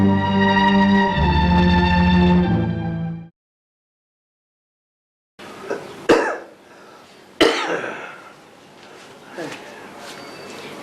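After a sustained musical tone and a stretch of silence, an elderly man coughs twice, harsh and close, followed by faint rustling.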